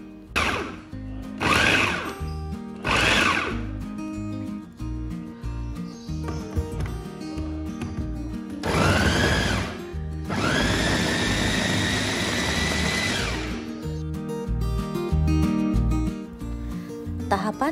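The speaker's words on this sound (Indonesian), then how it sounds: "saya memblender tomat tanpa menggunakan air, karena blendernya bisa memblender tanpa air" A blender whirs through tomatoes with no added water in bursts: short pulses at first, then longer loud grinding runs, with stretches of quieter kitchen sound between.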